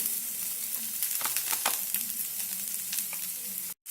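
Vegetables for fried rice frying in a pan, with a loud, continuous sizzle and scattered crackles and spatters, briefly cut off near the end, no speech.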